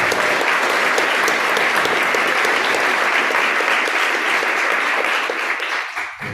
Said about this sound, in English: let's give Zach a real big warm round of applause